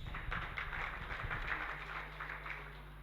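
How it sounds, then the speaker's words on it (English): An audience at a National Assembly public hearing applauds with a steady wash of clapping for about three seconds, over a low electrical hum in the hall. "I think you all deserve a round of applause."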